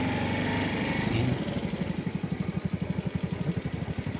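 Honda TMX 125 Alpha motorcycle engine running steadily while riding, a close, loud mid-pitched drone that settles into a pulsing, chugging rhythm, with no talk over it.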